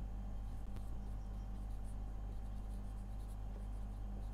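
Marker or chalk writing on a board sounds faint and intermittent against a steady low hum of room noise.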